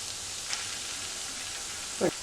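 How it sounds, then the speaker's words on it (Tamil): Three cloves of chopped garlic fry in hot oil as a tempering, giving a steady, even hiss with a couple of soft spatters. "வெட்டி வச்சிருக்கிற 3 கார்லிக் அதாவது உள்ளி போட்டு தாளிக்க போகிறோம். உள்ளி நல்லபடியாக பொரிஞ்சு வரட்டும்."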